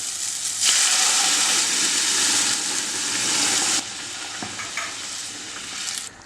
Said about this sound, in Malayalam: ഇനി നമുക്കിതിലേക്ക് വേവിച്ച് വെച്ചിരിക്കുന്ന പരിപ്പ് ഒഴിച്ചു കൊടുക്കാം